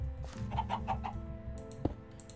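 Several Minecraft chickens cluck in a quick run of short calls, followed by a sharp peck or thump near the end.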